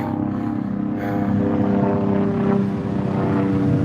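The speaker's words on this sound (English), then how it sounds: "My VIP helicopter's on the way." A helicopter drones loudly and steadily close by, its thumping rotor and engine noise filling the whole clip with no talking.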